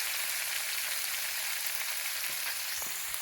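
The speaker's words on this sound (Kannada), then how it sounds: "ನೀಟಾಗಿ ಫ್ರೈ ಆಗಿದ್ದು" Flattened rice frying in a pan for avalakki uppittu, with chilli added, giving a steady, bright sizzle that holds even throughout, plus a couple of faint stirring clicks near the end.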